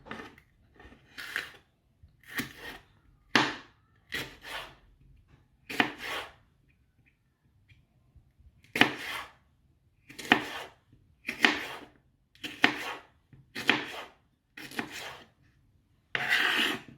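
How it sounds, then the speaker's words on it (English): A slightly blunt knife slicing a whole green pepper into long, thin strips, producing a series of crisp, rasping cuts in short bursts separated by quiet pauses, close and clear with no talking. "Now you slice up your green pepper into small slices, but long."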